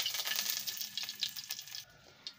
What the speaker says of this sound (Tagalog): Mainit ng ating kawali. Lalagyan na natin siya ng bawang.